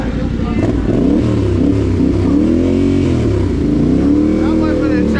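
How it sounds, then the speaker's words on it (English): A dirt bike engine revs loud and close, its pitch sweeping up and down repeatedly in a continuous roar, while people talk over it. "Dirtbike, boy."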